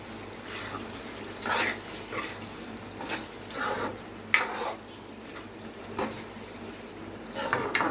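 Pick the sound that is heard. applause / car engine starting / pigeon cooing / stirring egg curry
stirring egg curry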